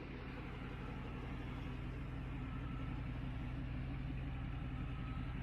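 An old pickup truck that sat parked for years idles steadily close by, a low, even rumble with a faint uneven lope running through it and nothing else over it.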